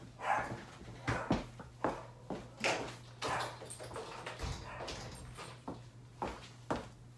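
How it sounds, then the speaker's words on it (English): A dog barks repeatedly in short bursts, somewhat muffled and at a moderate distance, with a steady low hum underneath. "Now my doggy's barking because my FedEx man is here."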